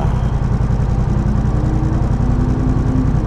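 A Honda Rebel 1100 motorcycle engine rumbles with a deep, pulsing exhaust note, holding a steady rev close to the microphone.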